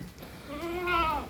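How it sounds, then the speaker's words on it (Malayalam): A goat that recently gave birth to its first kid lets out a single close, wavering bleat rising and falling over about a second. "ഇതാ ആടുണ്ടോളി."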